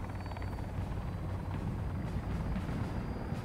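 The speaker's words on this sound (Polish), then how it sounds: "A, na dwa helikoptery lecimy." A helicopter in flight in the survival game Sons of the Forest, a steady low rotor rumble and thudding drone held at an even level throughout, with no talk over it.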